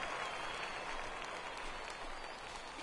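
A stadium crowd in the baseball video game MLB The Show 19 roars and applauds after a home run, a dense, steady wash of cheering that fills the whole stretch without letting up.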